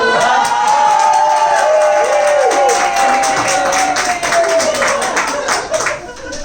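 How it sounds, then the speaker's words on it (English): A comedy club crowd at an Edinburgh 2019 show claps and cheers during an applause break, a dense, loud wash of clapping with a few whoops and raised voices. "That's my first applause break this week."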